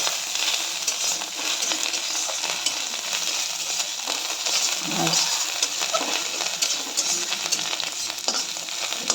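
Dried shrimp fries with turmeric powder in a pan, giving a dense, even sizzle with scattered stirring scrapes and one soft thump, close up.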